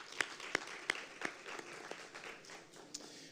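Faint applause from an audience at a journalists' anniversary symposium, with a few distinct, evenly spaced claps at first, then thinning into soft, scattered clapping in a large room.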